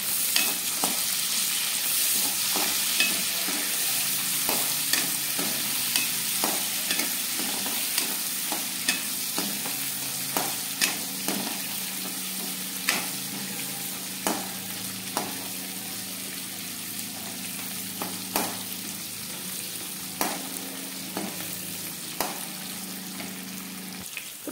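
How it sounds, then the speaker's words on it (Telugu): Green and red chillies, cumin, coriander, garlic and ginger fry in hot oil in a kadai, a steady sizzle with regular scraping stirs of a ladle against the metal, close and without talk. "ఇప్పుడు కడాయిలో ఆయిల్ వేసి కాగాక పచ్చిమిర్చి, ఎండుమిర్చి, జీలకర్ర, కొత్తిమీర, వెల్లుల్లి, అల్లం ముక్కలు కూడా వేసి బాగా ఫ్రై చేసుకోవాలి"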